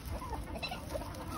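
Backyard chickens and roosters, including Plymouth Rock birds, cluck faintly in a coop amid dense rustling farmyard noise, a short stretch of soft continuous calls without speech.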